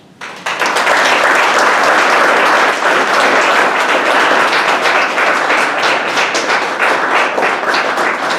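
An audience at a Collegiate 100 student induction ceremony applauds loudly and steadily. The dense clapping starts abruptly and fills the room, without pause.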